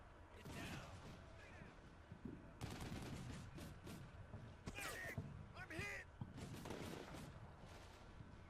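Russian rifle fire in the tactical war game Combat Mission Black Sea, with repeated sharp shots and bursts scattered across a busy battlefield mix, partly under narration.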